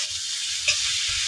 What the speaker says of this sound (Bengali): একটু বেশি অনেকক্ষণ নাড়তে হবে